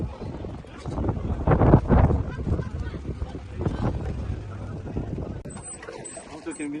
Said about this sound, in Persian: همونطور که می‌بینید که قایق گرفتیم و تو آب‌های ونیز کوچک هلند داریم قایق سواری می‌کنیم.